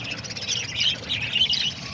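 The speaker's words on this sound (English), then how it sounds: "starting from the diamond doves to the lovebirds, cockatiels, all the way down to the little budgies." Mixed aviary of diamond doves, lovebirds, cockatiels and budgies giving a steady, busy wash of overlapping high chirps and tweets, moderately loud and continuous with no talk.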